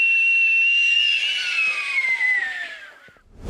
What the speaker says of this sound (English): Oh, come on, man, Seth, not the whistles.